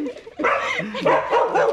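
A dog barks and yips in a quick run of sharp, close calls on arrival at a house in Brazil, loud and nearly continuous through most of the moment.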